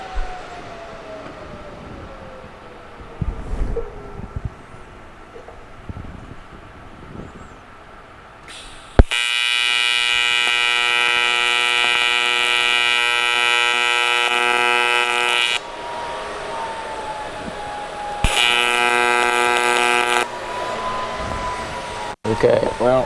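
A TIG welder tack welds a seat bracket on a 1967 Chevelle, giving a loud, steady buzzing hum with a sharp start that runs about six seconds, then a second shorter burst after a pause. Someone talks faintly in between.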